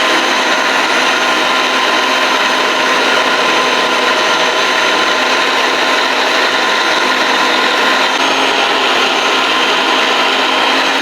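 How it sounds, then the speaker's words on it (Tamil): Electric all-in-one kitchen gadget spinning a coconut against its grater, a continuous loud whirring motor drone with a gritty scraping texture, steady throughout with no talking. "மிஷின் ஆன் பண்ணி விட்டிங்கன்னா இது சுற்றிட்டே இருக்கும்"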